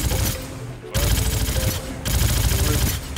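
Loud, close bursts of rapid automatic gunfire from an outdoor firefight in the video game Star Citizen, with two brief pauses between long rattling volleys.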